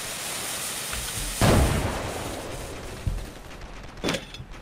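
Booming cannon-like blasts in the video game Ravenfield over a dense, noisy battle din, with one heavy shot early and another sharp blast near the end.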